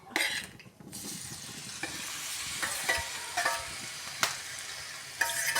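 Ripe banana pieces cooking in a hot pan, with a soft continuous sizzle, light stirring scrapes and a few sharp utensil clinks against the pan.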